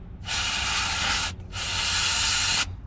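Brake cleaner is sprayed in two close, steady hissing bursts, each a bit over a second long with a brief gap between them, into the gummed-up parts of a 1950 Dodge Meadowbrook over a low background hum.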